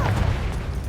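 Confringo blasting spell explosion in the Hogwarts Legacy video game: a short, loud booming burst with a heavy low rumble that quickly fades.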